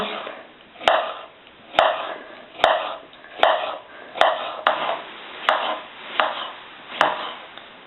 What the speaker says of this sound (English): So I will slice the cucumber